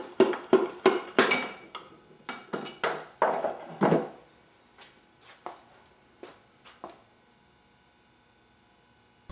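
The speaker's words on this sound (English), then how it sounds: "Using the wooden handle of the brass hammer, we gently push the connecting rod and piston out of the top of the block." The wooden handle of a brass hammer knocks a connecting rod and piston out of the top of a Lola T492 race engine block, a close series of sharp wooden taps and metallic clinks that thin out and stop.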